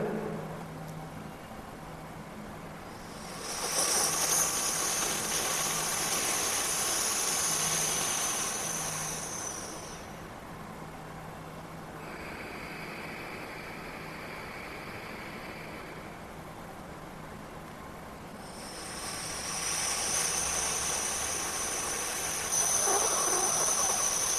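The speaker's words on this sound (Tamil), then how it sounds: "உதட குவிச்சு வாய் வழியாக காற்றை உள்ளே இழுக்க முடியுமோ அந்த அளவுக்கு இழுக்கணுங்க அதன் பிறகு மெதுவாக மூச்சு காத்த வாயை மூடி மூக்கு வழியாக விட்டுறணும்" Slow breathing exercise, drawing air in through pursed lips and letting it out through the nose: two long, airy hissing inhalations separated by a quieter, softer exhale, close and steady with no talk.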